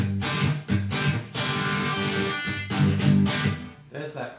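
Crunchy distorted electric guitar tone played through a Kemper amp modeler, loud and continuous with strummed chords and short breaks.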